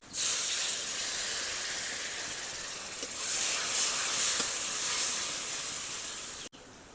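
A spice paste with turmeric and chili powder hisses and sizzles loudly in a hot pan, a steady bright steam-like spray of sound with no talking, ending with a brief break.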